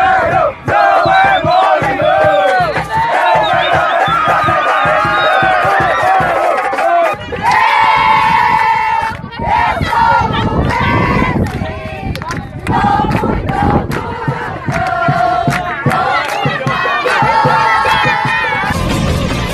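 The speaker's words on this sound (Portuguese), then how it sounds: "Temos aí essa torcida animada que sempre lota o estádio Antônio" Football crowd at the Antônio da Silva stadium during the Quijinguense championship, loud rhythmic chanting and shouting from many voices, sustained and surging with whoops.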